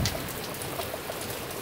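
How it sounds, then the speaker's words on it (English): Heavy rain pouring down over a mountain cabin area near Tucson, a steady dense hiss of drops with scattered patters on surfaces, continuous and even throughout, no voices. "Incredible amounts of rain have just come down."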